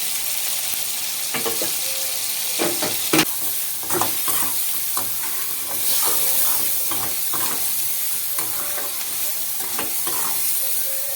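Ground cumin, coriander and Kashmiri chilli powder frying in a pan for a fish curry, a close, continuous sizzle broken by repeated scraping stirs of a spoon.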